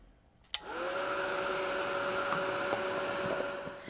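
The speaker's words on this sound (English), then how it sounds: "And I'm going to heat set again." A crafting heat tool switched on with a click and then blowing a steady, loud whirring rush close by while heat-setting watercolor on paper tags, running alone for several seconds.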